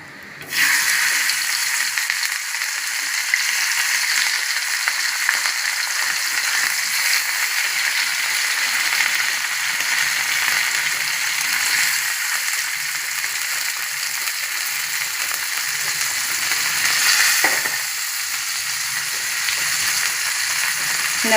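Fish fries loudly in a pan, an intense, even sizzling hiss that starts abruptly and holds steady throughout, with a brief knock near the end.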